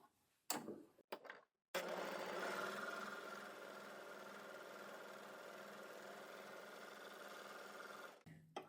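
An overlocker (serger) stitching fabric: after a few short clicks and stops, the motor runs at a steady, even hum for several seconds, then cuts off.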